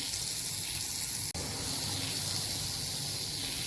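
Panch phoron five-spice hitting hot oil for an Assamese mango tok, making a loud, dense, continuous hiss and sizzle close by, broken only by one brief dropout.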